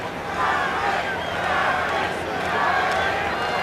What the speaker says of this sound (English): some of the crowd anyway, about 50 or 100 chanting Charlie, Charlie, trying to get the rest of them stirred up